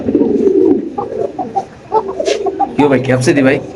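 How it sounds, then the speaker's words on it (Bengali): Large male pigeons coo repeatedly at a busy pigeon market, close and fairly loud, with other birds and clucking fowl mixed in and background chatter. "এটা নর কবুতর একটা বিশাল বড় সাইজের"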